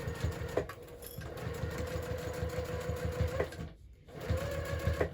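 Sewing machine running a seam on a hobo bag, rapid rhythmic needle chatter close by that pauses briefly near the end before starting again.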